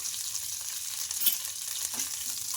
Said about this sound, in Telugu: ఈ కరివేపాకుని కూడా ఇలా బాగా కలిపేసుకోవాలి